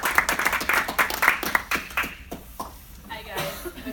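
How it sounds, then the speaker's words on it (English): A small hospitality club gathering claps for a speaker, a short burst of distinct, fairly close handclaps that thins out after about two seconds, followed by a person starting to talk. "Big round of applause."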